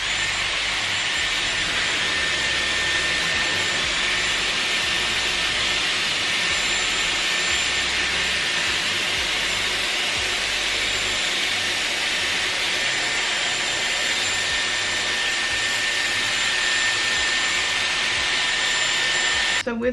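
Dyson Airwrap hair styler blowing air on high heat, a steady loud whooshing hiss with a constant motor whine that runs unbroken throughout, with no talking.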